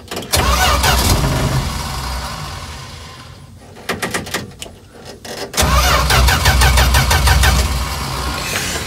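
A 1967 Plymouth Valiant engine cranks and fires, revving loudly up close, then dies back briefly before being cranked again and catching into a rough, loud run.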